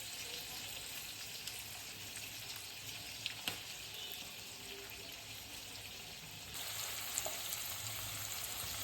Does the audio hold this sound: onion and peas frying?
yes